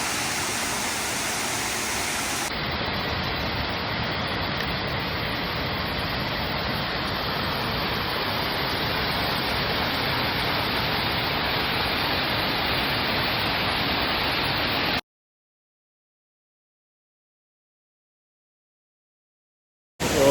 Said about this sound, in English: this is the smaller waterfall I was talking about